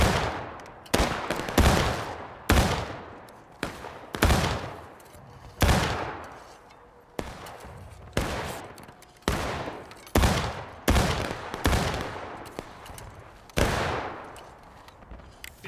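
Repeated loud gunfire bursts in a video game battle, sharp cracks arriving every second or so with decaying tails, some overlapping in rapid fusillade, no talk over them.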